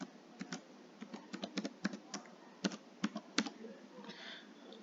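Quick bursts of computer keyboard keys being pressed while entering a password, irregular clusters of close, crisp clicks with short pauses between.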